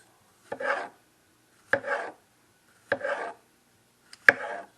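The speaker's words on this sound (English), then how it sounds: "Cut up some green peppers." A knife chops green peppers on a board in four separate, evenly spaced bursts, each a sharp strike followed by a short scraping rasp, close and clear with no talk.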